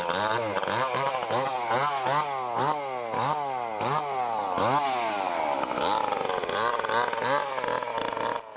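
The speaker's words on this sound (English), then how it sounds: "And this old woodcutter was using it to saw a large log." A big Stihl MS 881 chainsaw cuts through a large log outdoors, its loud motor repeatedly revving up and bogging down in rhythmic surges as the chain bites into the wood, steady and close throughout.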